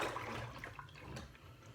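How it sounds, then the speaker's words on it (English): Blueberry hibiscus mead being stirred, a quiet, continuous watery swishing and sloshing of liquid with no pauses. "we're going to keep stirring it for a little bit longer"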